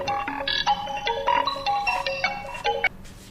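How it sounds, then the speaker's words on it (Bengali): A mobile phone ringtone ringing nearby, a bright melodic electronic tune of quick repeated notes lasting a few seconds, loud and alone with no talk over it. "তোর রিং বাজতেছে ফোনে।"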